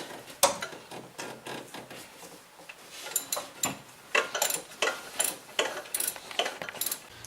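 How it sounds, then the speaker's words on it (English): A ratchet with a 12mm socket tightens the lower alternator mounting bolt on a Honda Civic, giving a run of close, sharp clicking strokes that speed into a steady rhythm. "Using our 12mm socket, go ahead and tighten that lower alternator mounting bolt."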